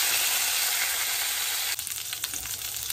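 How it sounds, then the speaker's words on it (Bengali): Ingredients for a light tengra fish broth fry in hot oil in a pan, a steady loud sizzle that turns rougher and more uneven partway through as the contents are stirred, with no voices. "ভাজা ভাজা করে দেবো।"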